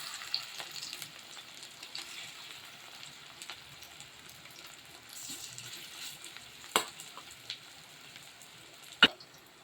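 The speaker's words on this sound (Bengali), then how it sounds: "এই যে কড়াতে ভাজা দিয়েছি" Fritters fry in a wok with a quiet, steady sizzling of oil, with a few sharp pops and clinks of a utensil scattered through.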